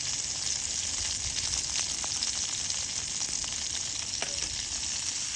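A steak sears in a pan over a camp stove on a solo camping trip, giving a steady, close sizzle with scattered faint crackles and pops throughout.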